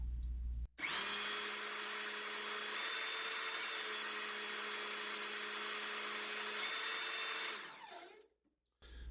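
A hydraulic torque tool tightens a fastener with a steady, loud mechanical whine that holds for about seven seconds before winding down, heard up close with no talking.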